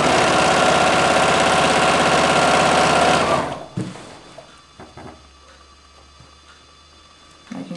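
A sewing machine stitches a quilt binding seam in a loud, fast continuous whir for about three seconds, then stops abruptly, leaving quiet room tone with a few small clicks.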